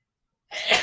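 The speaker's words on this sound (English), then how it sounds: "It's hard to sneeze in a triangle." A single short, sharp sneeze breaks out during a yoga class held in triangle pose, bursting suddenly after near silence and sounding close and fairly loud.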